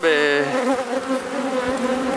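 A dense, steady buzzing of many honeybees at an open hive during an inspection, close and continuous, with a brief higher whine at the start.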